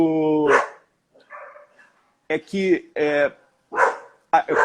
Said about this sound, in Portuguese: desculpa aí que passou um cachorro na rua